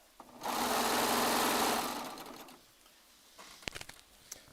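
A Baby Lock Triumph serger runs in a fast, steady burst for about two seconds, then winds down, leaving faint scattered clicks and handling noises.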